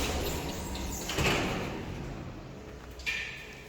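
Doors of a 1984 MLZ lift slide open and shut, a couple of scraping, rolling moves with a soft knock near the start and another at the end, heard close and fairly quiet.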